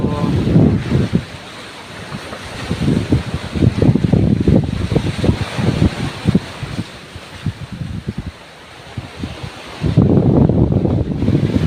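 Gusty wind by the sea at Anilao, Batangas, buffets the microphone in loud, uneven surges, with a steady roar of surf behind it.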